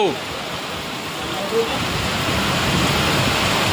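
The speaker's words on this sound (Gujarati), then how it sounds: "અમારા ગામમાં વરસાદ પડે તમારા ગામમાં કેવો છે" Steady rain pours over a village in a dense, even hiss that stays loud and unbroken from start to finish.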